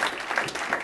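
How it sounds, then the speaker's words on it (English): Audience members at a live hypnosis show clap for the volunteers onstage, a brief burst of close, dense applause. "Round of applause for these guys."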